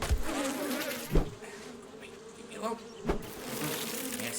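Buzzing bees swarm around a player in the video game 7 Days to Die, a steady insect drone with a few sharp thumps, while a voice speaks briefly over it.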